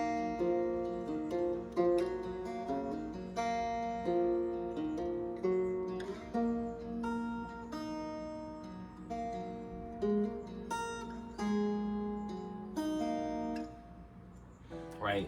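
Guitar sample from Arcade's Wandering Mind Bank for a soul sample, with dense harmonic chords and plucked notes ringing steadily at moderate loudness for about fifteen seconds, no talking.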